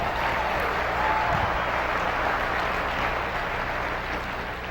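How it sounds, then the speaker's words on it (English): An audience at a motivational keynote in Atlanta claps steadily for several seconds, a dense even roar of hands with no one speaking over it. "Give him a big round of applause."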